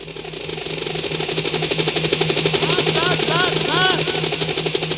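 A helicopter's engine hums with a steady rhythmic rotor pulse, fairly loud and continuous, while people talk over it.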